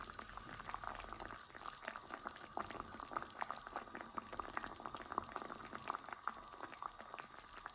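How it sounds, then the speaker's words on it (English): Festive pot pourri of fruit and spices simmers in water in a saucepan on very low heat, giving a steady close bubbling with frequent small pops and gurgles and no talking. "just cover the ingredients with a little bit of water and then simmer on very low heat"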